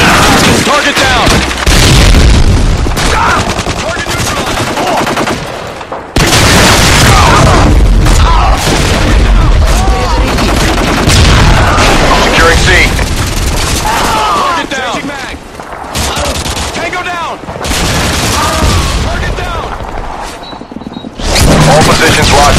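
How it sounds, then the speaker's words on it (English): Predator missile strikes in a multiplayer military shooter game, heavy booming explosions and rumbling blasts with scattered gunfire, loud and continuous, under announcer voice lines and in-game callouts. "Friendly Predator missile incoming."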